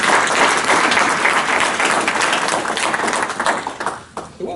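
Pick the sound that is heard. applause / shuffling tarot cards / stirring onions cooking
applause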